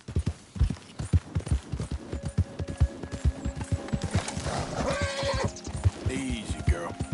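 A horse clip-clops along with a steady, loud hoof rhythm and breaks into a clear neigh near the end, while a rider's voice speaks over the hoofbeats.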